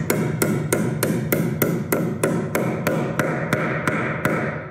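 Hammer driving a nail into a roof's wooden fascia board during framing: about fourteen sharp, evenly spaced blows, close and loud, with no talk.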